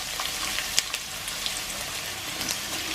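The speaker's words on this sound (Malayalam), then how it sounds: "ഓയിൽ ചെറുതായിട്ട് ചൂടായിട്ടുണ്ട്. ഇനിയും ഇതിലേക്ക് ആവശ്യത്തിന് ഉള്ളി നമുക്ക് ഇട്ട് കൊടുക്കാം." Medium onions sizzle in hot oil in a pan, a continuous crackling hiss with scattered sharp pops, close and moderately loud, with no talking.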